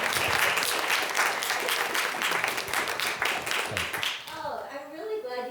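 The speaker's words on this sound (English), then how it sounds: "Can we clap?" Audience clapping at a university speaker series event, a dense burst of many hands that fades after about four seconds into a thinner patter with faint voices.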